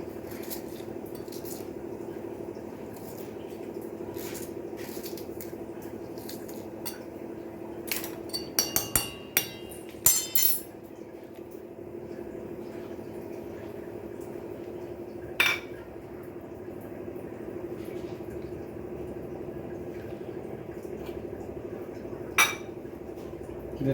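Ingredients being finely chopped in a home kitchen, a faint steady background with a short burst of quick knife taps and clinks around the middle and a few isolated knocks later.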